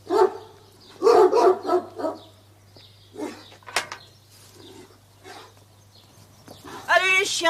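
Dogs barking in a vintage 1986 French TV series: a few bursts of barks and yips mixed with people talking, against a steady low hum.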